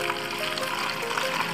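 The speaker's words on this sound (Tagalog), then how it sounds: "So, kailangan natin yan lagyan ng tubig." Water poured into a container during a home ritual, a steady, continuous trickling and splashing wash that runs without pause from start to finish, fairly close and moderately loud.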